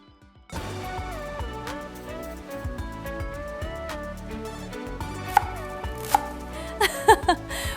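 A knife chops food for a salad on a board in quick steady strikes. Music with sustained tones plays over the chopping throughout, and a few sharper hits come near the end.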